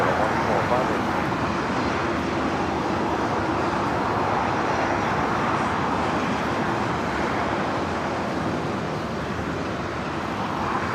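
Boeing 747 arriving at LAX from Tokyo Narita, a continuous broad jet roar that holds steady and fairly loud throughout, heard at a distance over general airport ambience.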